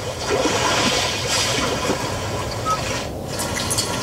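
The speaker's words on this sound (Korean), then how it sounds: "그 다음에 잔잔한 파도 소리," A steady wash of gentle ocean wave sounds from a car's built-in nature sounds feature, like waves rolling gently in, continuous and soft with no voices.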